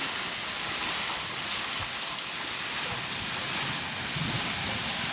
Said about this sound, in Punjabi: ਹਜੇ ਵੀ بارش ਫੁੱਲ ਤੇਜ਼ ਆ ਆ ਦੇਖ ਲਓ ਵੀ ਕਿੰਨੀ ਤੇਜ਼ ਕਣੀਆਂ ਡਿੱਗਦੀਆਂ